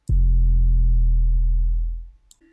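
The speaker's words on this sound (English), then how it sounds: "And the 808 I chose sounds like this." A single noisy, hard 808 bass note for a phonk beat hits loud and sustains with a deep harmonic drone for about two seconds before fading, with no voices.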